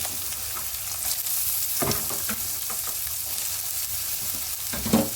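Chopped onion, potato and chilli frying in a pan, giving a steady, close sizzle throughout with occasional scraping stirs of a spatula.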